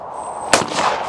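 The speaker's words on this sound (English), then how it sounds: "Just going to shoot a little bit of trap with my Beretta DT10 trap gun." A Beretta DT10 trap shotgun fires once at a DTL trap range, a single sharp loud report with a short outdoor decay.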